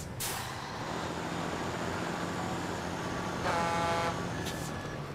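A modded truck in SnowRunner idles with a steady, low engine drone and exhaust rumble, briefly punctuated by an air-brake hiss and a short horn-like toot.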